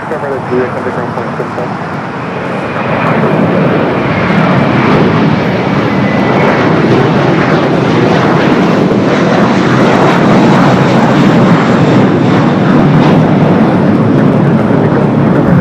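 An Airbus A350 arrives at Los Angeles LAX after a go-around, its engine roar swelling from about two seconds and then holding loud and steady. Broadband jet noise fills the scene and a voice talks underneath.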